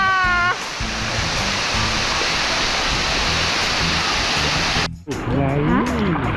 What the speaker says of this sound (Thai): ตรงนี้เป็นน้ำตกด้วยอ่ะดูดิ